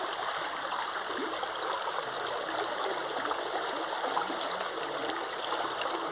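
A small stream of water flows on a cacao farm near Ilhéus, Bahia, with a steady close-up babbling and rushing that stays even throughout and has no voices over it.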